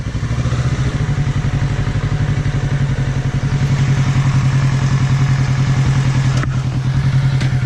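A motorcycle engine chugs in a steady, close, loud low throb with rapid pulsing firing beats, pulling away slowly in first gear with slight rises as the throttle opens.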